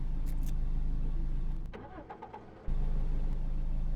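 A car engine cranks and catches in the game Cataclysm: Dark Days Ahead, with a loud steady rumble that cuts out into a brief stuttering crank before roaring back into a strong idle.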